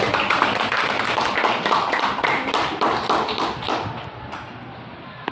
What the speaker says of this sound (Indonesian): mari tepuk tangan dan mengapresiasi